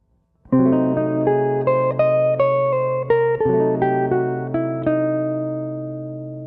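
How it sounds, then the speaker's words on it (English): A jazz guitar-like lick winds over a diminished chord, a run of quick plucked notes above a sustained chord that rings out and fades at the end. "Our final lick shows us just how to play over a diminished chord and sounds like this."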